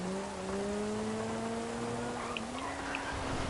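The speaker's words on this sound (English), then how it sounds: "The car don't seem to want to go fast in this rain." Car engine in rain in GTA, a steady droning hum that slowly climbs in pitch as the car accelerates, over a constant hiss of rainfall, with a few faint higher tones near the end.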